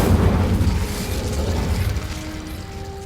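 A Confringo blast spell going off in Hogwarts Legacy, a heavy low boom that starts loud and rolls into a rumbling, fading decay, with a faint tonal hum emerging near the end.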